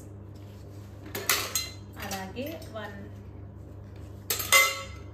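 Small steel spoons and kitchen utensils clink and rattle in a few sharp bursts, close by and fairly quiet, with a person speaking briefly between them.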